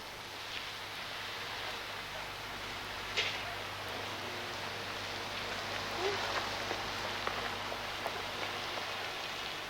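Steady, soft hiss of artificial rain falling, with a few scattered drips and taps standing out against the even patter.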